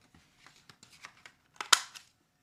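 A 2-inch paper punch working through scrap paper gives a series of small clicks and rustles, ending in one louder crisp snap of the punch cutting through, close and quiet.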